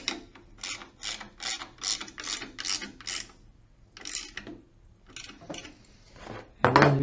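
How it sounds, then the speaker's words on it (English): A ratchet wrench tightening a nut on a Quickie Access wheelchair base, with a steady run of close clicking strokes followed by a few slower clicks and a brief metallic clatter. "You put this nut on, and you tighten it."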